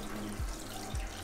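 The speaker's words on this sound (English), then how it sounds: "Just gonna rinse it first." Tap water running over a dyed sweatshirt being rinsed, a steady close splashing stream with two brief surges of heavier flow.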